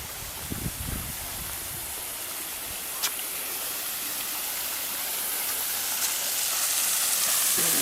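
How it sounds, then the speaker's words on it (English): A small waterfall in hotel grounds on La Palma gives a steady, soft rush of falling water, with a brief thump and some faint background movement near the start. "So here is a little waterfall"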